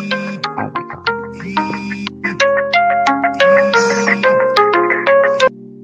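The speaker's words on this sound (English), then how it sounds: "Adi has a phone call coming in" A phone ringtone for an incoming call plays as a loud, bright electronic melody of quick stepped tones repeating for several seconds before cutting off, with no talk over it.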